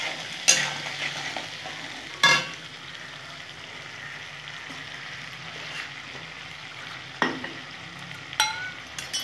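Spice masala sautéing in oil with sugar hisses quietly and steadily, with a few sharp spatula scrapes and knocks scattered through.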